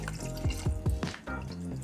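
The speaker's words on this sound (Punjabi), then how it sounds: "ਇੱਕ ਗਲਾਸ ਪਾਣੀ ਪਾਤਾ ਜੀ" A glass of water is poured into a cooking pot of halved tomatoes, making a brief, close run of splashing and gurgling bursts with no talking.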